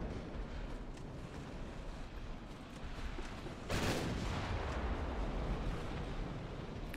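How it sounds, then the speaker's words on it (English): A torpedo strikes a warship in the naval battle game Ultimate Admiral Dreadnoughts, a single heavy explosive boom that rises sharply out of a steady rumbling battle din and lingers as a loud roar. "Hits another goddamn torpedo back there."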